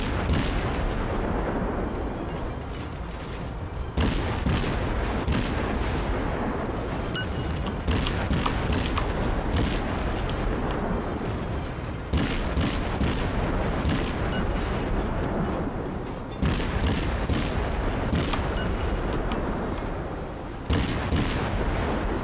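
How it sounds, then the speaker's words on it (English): Heavy booming naval gunfire in World of Warships pounds continuously, big blasts repeating in bursts with short gaps, dense and loud throughout with no voices. "Just keep up the withering gunfire and he will go down eventually."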